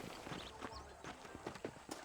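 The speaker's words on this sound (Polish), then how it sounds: "Do góry krzyżakiem, żeby gwizdnąć. Żeby przywołać konia." Horse hooves approach in Red Dead Redemption after a whistle calls the horse, with a steady clip-clop of hoofbeats and a faint whinny over quiet outdoor ambience in the Western game.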